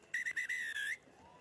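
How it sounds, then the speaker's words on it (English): A referee blows the final whistle at a rugby sevens match between Kenya and Canada in Edmonton: one long shrill blast with a few quick stutters, loud over faint crowd noise. "And that will do it, the final whistle."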